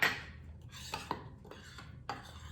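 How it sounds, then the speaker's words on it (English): Dry ingredients with cinnamon for beignet tea bread mixed in a bowl, with a few close spoon scrapes and light clinks against the bowl separated by short pauses. "We're going to mix all the dry ingredients."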